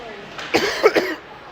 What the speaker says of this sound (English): I had to cough so bad during that instance.